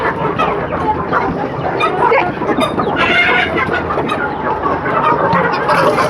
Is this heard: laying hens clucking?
yes